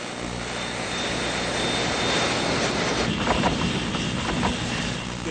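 A Boeing 747 on United Airlines Flight 811 with its number three engine disintegrating, a loud continuous roar of engine and airflow with a steady high whine, rising slightly with rumbling surges toward the end.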